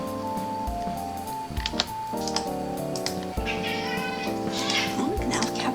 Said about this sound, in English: Oh, now the cats are acting up.